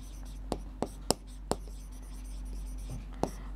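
Someone writes on a board during a Class 5 Vedic mathematics lesson, making a few sharp, irregular taps and strokes over a low background hum, with soft talking underneath.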